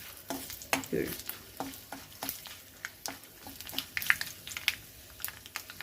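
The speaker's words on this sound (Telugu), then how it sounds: "పోపు అయిపోతున్నది" Asafoetida and fenugreek tempering sizzling in hot oil, with soft crackles and light stirring taps in an irregular rhythm, quiet and close.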